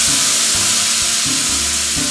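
Fish sizzling in a hot skillet with a splash of lemon juice, a steady close hiss of frying with a faint low hum underneath and no voices.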